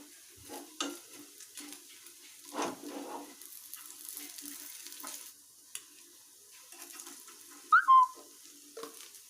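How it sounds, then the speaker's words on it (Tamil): Paneer frying in a pan, quiet intermittent sizzling with stirring scrapes and utensil clinks, one sharper squeaky metallic scrape near the end, no voices. "நம்ம மீதி இருக்கிற பன்னீரை அதே மாதிரி ஃப்ரை பண்ணி எடுத்துடலாம்"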